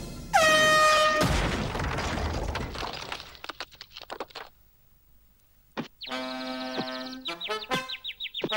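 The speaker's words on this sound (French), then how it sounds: "et bien sûr, son plus fidèle compagnon, un klaxon." Blaring air horn blasts in a Mickey Mouse cartoon, a loud held tone near the start followed by crashing breakage, then a burst of honking horn tones and clatter later on.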